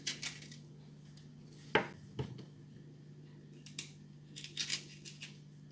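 A knife slices peppers in half on a board, giving a few sharp isolated clicks and taps spaced irregularly over a quiet, faintly humming background.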